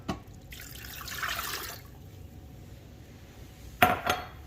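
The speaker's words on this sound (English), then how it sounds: "I'm gonna pour in some water." Water pours briefly into a slow cooker holding two frozen roasts with a soft splashing rush, then stops; a couple of sharp clinks of a lid or container follow near the end.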